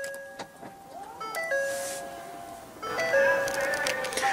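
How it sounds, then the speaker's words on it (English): A 2015 Ford Explorer's power tailgate opens, marked by electronic warning chimes and steady tones, a whirring motor rising partway through, and brighter overlapping chimes toward the end, close and clear. "Let's go ahead and pop the tailgate."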